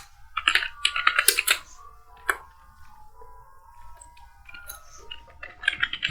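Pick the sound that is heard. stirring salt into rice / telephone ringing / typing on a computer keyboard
typing on a computer keyboard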